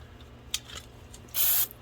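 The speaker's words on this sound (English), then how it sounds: "give it a spray of brake cleaner." A short hissing burst of brake cleaner sprayed from an aerosol can, close and fairly loud, lasting about a third of a second after a faint click and quieter rustling.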